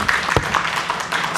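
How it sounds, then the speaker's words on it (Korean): Applause from the audience at an academic forum on sijo poetry and filial-piety culture, a dense, steady wash of clapping heard up close throughout the short stretch. "박수를 이렇게 많이 쳐주셔서 정말 경의를 표합니다"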